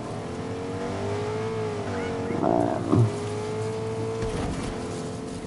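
A car driving in Fortnite, a steady engine hum with shifting pitch and a brief louder rev and bump midway, moderate in level with no talking.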